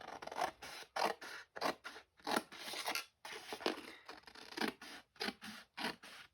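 Scissors snipping through craft paper while a gift bag is cut out, a steady series of close, crisp cutting strokes with short pauses between them, quiet and with no voices.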